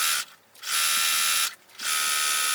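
A sewing machine stitches African fabric quilt pieces with a short stitch length, running in close, steady whirring bursts broken by two brief pauses.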